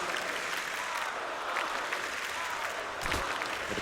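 Crowd applauding and cheering at a CS:GO esports grand final in an arena, a steady roar of clapping throughout with a brief swell near the end.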